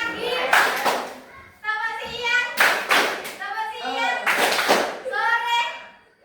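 Children play a clapping game, bursts of sharp hand claps alternating with chanted phrases in a steady call-and-response rhythm, close and lively.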